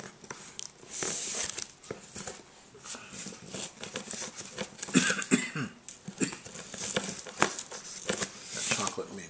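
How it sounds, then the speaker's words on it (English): A child coughs repeatedly after eating chocolate, short harsh bursts scattered among wrapper crinkling and rustling while a package is opened indoors, with people talking now and then. "That chocolate made me cough."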